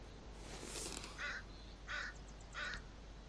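In the video game The Forest, crows caw three times at regular intervals over a faint ambient background, each call short, harsh and moderately close, no talk.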